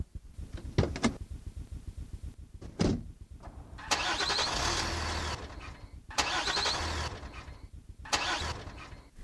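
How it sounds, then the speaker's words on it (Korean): A truck engine cranks and briefly catches, then dies, twice over in a sound-effect sequence, with sharp clicks and bursts of starter whine and engine rumble, loud and close with no voices. "시동을 켜는데 다시 꺼진다."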